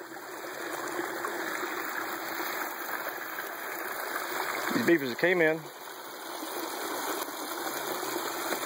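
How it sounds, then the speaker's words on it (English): Water runs steadily through an opened beaver dam in a Columbia, South Carolina creek, a continuous close rushing flow that carries on while someone talks over it. "They got a little bit of water flowing right here."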